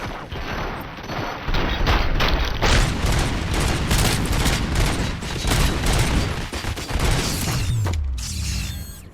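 Sustained automatic gunfire in the Robocop Rogue City video game, dense rapid bursts filling most of the clip with heavy booms and mechanical clatter, ending in a low rumble.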